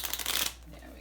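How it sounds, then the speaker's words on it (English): A quick riffle of playing cards being shuffled, a brisk fluttering burst lasting half a second before fading to quiet. "A few more shuffles."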